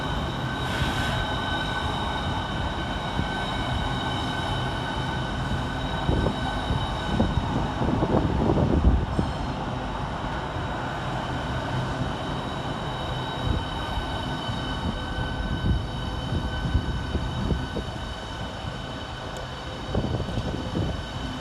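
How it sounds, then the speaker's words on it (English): A Southeastern high-speed train arriving at London St Pancras, a steady rolling rumble with faint metallic whine and brief squeal from the wheels under the station roof, continuous and moderately distant throughout, with no talk. "Arriving next to terminate with a Southeastern high-speed service off Ramsgate is 395003 and"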